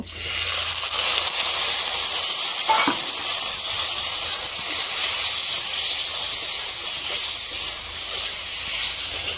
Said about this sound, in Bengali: এখন এটা শুধু এটার মধ্যে ঢেলে দিয়ে তেলের মধ্যে শুধু ভেজে নেব।